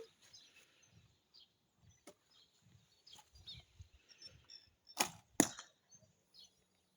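Arrows shot from a bow strike a cardboard target box, two sharp close thwacks in quick succession after faint scattered clicks and rustles in a quiet outdoor setting.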